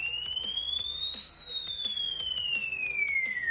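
A single pure synthetic triangle-wave tone glides slowly up in pitch and then back down, steady and bright, with faint rhythmic ticking underneath.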